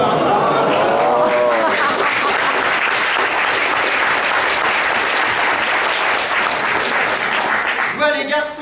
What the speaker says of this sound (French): Je vois les garçons applaudir